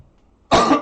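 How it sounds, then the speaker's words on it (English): One short, harsh cough bursts out abruptly after near silence, close and loud, during a live bedtime story reading. "I got a bit of a cough"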